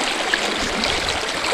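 A small creek flows beside a riverside campsite, a loud, close, steady broadband rush of running water with no voices.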